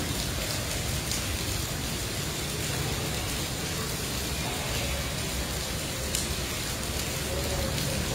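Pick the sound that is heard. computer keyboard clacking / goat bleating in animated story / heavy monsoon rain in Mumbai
heavy monsoon rain in Mumbai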